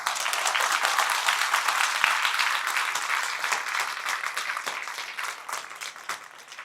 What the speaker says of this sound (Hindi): तो अगर फटकार अच्छी लग रही तो जोर से ताली बजा दो एक बार।